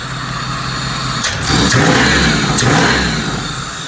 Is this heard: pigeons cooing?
no